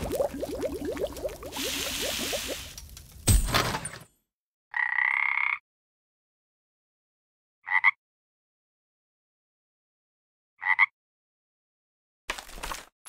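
Croaks from a frog in the mobile game Kick the Buddy: three short, loud, bright bursts spaced a few seconds apart, separated by silence and following a louder jumble of game noise.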